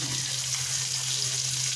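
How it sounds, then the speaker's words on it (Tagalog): Milkfish sizzles steadily in hot oil in a pan, a constant crackling hiss with a low hum beneath and no pauses. "Nagpiprito ako ng bangos."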